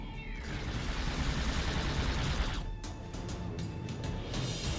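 Heavy weapons from living Tzenkethi tanks pound away in Star Trek Online, a dense, roaring barrage of blasts and crashes with sharp rapid bursts breaking through midway.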